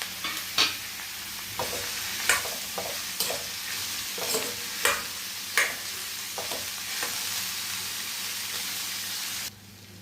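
Coriander, cumin, bay leaf, garlic, cloves and peppercorns dry-roasting in a pan for katachi amti: close, irregular stirring scrapes over a low steady sizzle, cutting off abruptly near the end.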